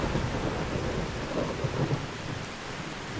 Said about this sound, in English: The thunder is very loud.